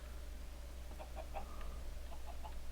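Chickens in Minecraft give a few soft, quick clucks in small clusters over a low steady hum, faint and close, with no talking.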